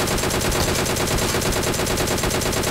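Rapid, sustained fire from a DP machine gun in the mobile shooter BGMI, a dense unbroken stream of loud shots at an even rhythm with no pauses.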